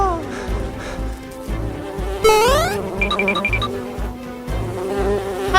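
Cartoon bees buzz loudly and steadily in a children's animal nursery rhyme, with music stings and playful sound effects over the top and voices breaking in briefly.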